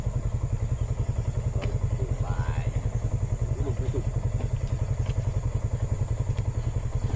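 A Ducati motorcycle engine idles with a steady, rapid low thumping pulse, close and continuous, with faint chatter in the background.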